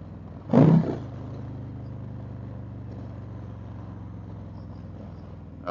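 A motorcycle engine blips in a short loud rev burst during a downshift, then settles into a steady, low idle-like rumble that carries on to the end.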